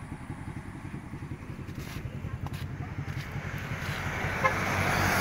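Roadside highway traffic near a transport office, a steady low engine rumble of passing vehicles with a brief horn-like toot, building slightly louder toward the end, no talk.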